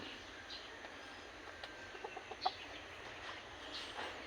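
Backyard chickens cluck softly in a string of short, scattered calls, faint and somewhat distant against a quiet outdoor background.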